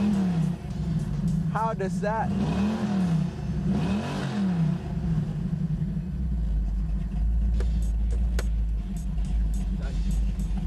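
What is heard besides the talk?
car engine revving in neutral at Summernats Malaysia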